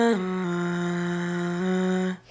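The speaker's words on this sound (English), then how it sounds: "I have a cool session with just a simple background vocal that sounds like this" A simple background vocal track in a mixing session, a sustained sung note with a small pitch shift, close and clean, holding steady for about two seconds before cutting off.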